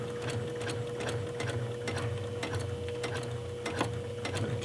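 A sewing machine runs a very short stitch length, around 1, while sewing a pull tab for a makeup bag. It gives a close, steady mechanical whir with a rapid, even stitching pulse and no talk.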